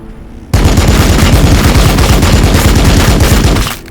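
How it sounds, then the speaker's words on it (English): Rapid automatic gunfire from the video game Warhammer 40,000: Battlesector erupts abruptly after a brief quiet moment, a loud, dense burst of shots rattling continuously for about three seconds before cutting off. "Opening fire."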